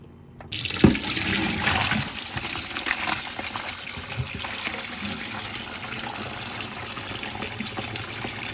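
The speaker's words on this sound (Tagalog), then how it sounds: "sinalin ko sa strainer tapos pinatuluan ko ng malamig na malamig na tubig" Cold tap water gushes steadily over cooked seaweed in a strainer, starting abruptly and then running as a continuous splashing rush close by, with no talking.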